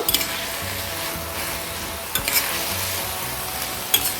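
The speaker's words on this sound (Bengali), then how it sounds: "এভাবে নাড়াচাড়া করে নিতে হবে" Pumpkin shoots fried with ground cumin and turmeric are stirred in a pan, a steady close sizzle with a few scraping strokes of the spoon, and no voices.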